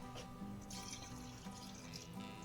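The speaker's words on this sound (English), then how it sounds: "I'm going to go ahead and throw some of this spring water into the cup measure I was using to try and break up a little bit more." Spring water poured into a measuring cup holding leftover honey while making mead at home, a steady faint trickle and splash with no voices.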